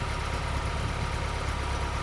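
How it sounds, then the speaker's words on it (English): A 1971 Datsun 510 barn find idles with a newly installed Fujitsubo exhaust, giving a steady, close, even low rumble with no revving and no talk. "I mean, it just sounds like an exhaust."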